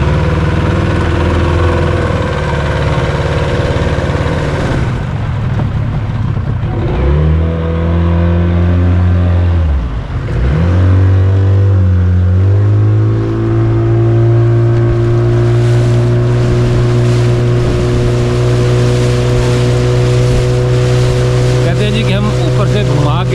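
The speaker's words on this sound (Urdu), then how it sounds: "اور یہ انجن اسٹارٹ کر رہے ہیں۔" A boat engine starts and runs steadily during a ride on the water at Hiran Minar, Sheikhupura, its loud, close drone shifting in pitch as it revs up and settles, continuous throughout with no talking over it.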